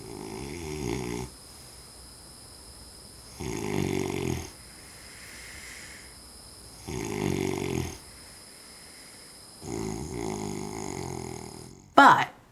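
A man with sleep apnea snores in his sleep: four loud, close, drawn-out snores spaced a few seconds apart, with quiet breathing gaps between them and a brief sharp click at the end.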